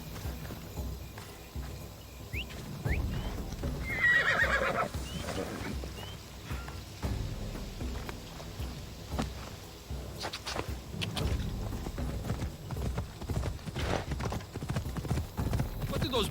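A horse in the video game Assassin's Creed Odyssey clip-clops along in a steady hoof rhythm over ground, with in-game ambience and occasional snorts, continuing for the whole stretch.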